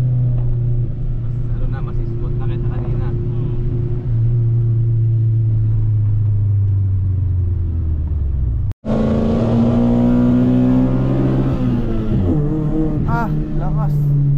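A tuned Mitsubishi Lancer with a 4G92 DOHC MIVEC engine revs loudly and steadily, holding a high droning pitch. After a brief cut it rises and falls through several sharp revs, with voices talking over the engine.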